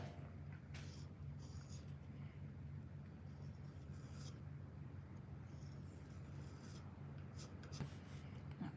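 Steady scratchy rubbing of a marker or soapstone tracing a shamrock outline on metal for a welded St. Patrick's Day keychain, continuous and close over a low background hum.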